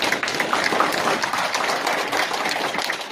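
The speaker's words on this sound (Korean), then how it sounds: "큰 박수로 맞이해 주시기 바랍니다" A large audience claps in welcome for a provincial governor stepping up to speak at a Gumi Chamber of Commerce forum on the defense industry, a dense, steady applause that holds at full strength throughout.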